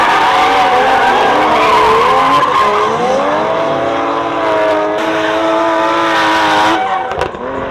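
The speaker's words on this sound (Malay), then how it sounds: "Dia punya kereta enjin V8 tu, sebab tu kau dengar bunyi dia lain kan." A V8-engined car skids with loud, sustained tire squeal over a roaring engine, close and continuous, cutting off near the end.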